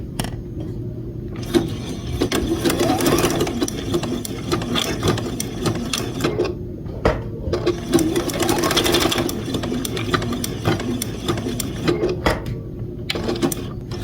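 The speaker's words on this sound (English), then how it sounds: "I'm going to change it to the button stitch on my machine, and I am going to try it one time just to make sure." Sewing machine running a button stitch, a close, busy mechanical clatter and ratcheting in bursts with short pauses between runs.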